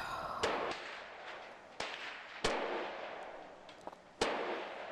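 Gunshots from guns fired in the VR shooting game Gun Club VR, about five sharp, separate cracks spaced irregularly over a few seconds, each with a short decaying tail, fairly quiet overall.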